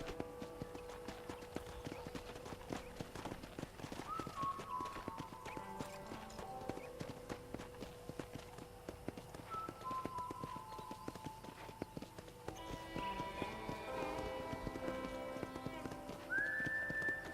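Horse hooves clip-clop at a steady trot in the video game Red Dead Redemption, a continuous patter of hoofbeats under game music with a brief whinny and some speech.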